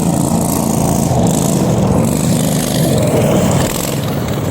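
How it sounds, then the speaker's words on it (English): A go-kart with a 16 horsepower V-twin engine races past nearby with a loud, continuous, rough buzzing drone that holds steady throughout. "It's the 16 horsepower V-twin swap on my brother's go-kart there."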